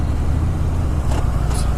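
Steady low engine drone of a Kawasaki Vulcan 650 and a Harley-Davidson Street 750 riding together and pulling up through the gears, a continuous rumble with wind noise and no clear voices.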